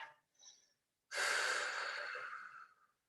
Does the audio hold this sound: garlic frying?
no